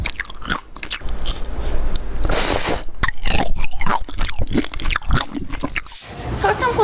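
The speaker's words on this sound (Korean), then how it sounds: "설탕 코팅도 바삭바삭하고 과일도 신선하고 달달해가지고 이게 씹는 재미가 있더라고요." Sugar-coated fruit tanghulu is eaten up close: crisp bites crack through the hard candy shell, followed by wet, squishy chewing and crunching in a rapid, irregular rhythm.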